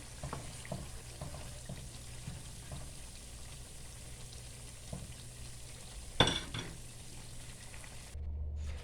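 Cabbage pakora frying in oil, a soft continuous sizzle with a few stirring scrapes and a sharp clink partway through, quiet and close.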